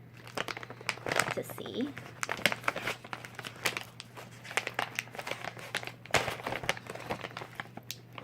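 Hard plastic packaging holding chocolate nibs is crinkled and handled up close, a dense run of crackling and crunching that continues under a person's talk.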